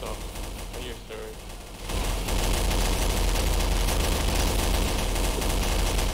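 Sustained machine gun fire in Garry's Mod's Zombie Survival mode on the Objective Vertigo map, starting quieter and then becoming a loud, continuous barrage from about two seconds on, with voices in the background.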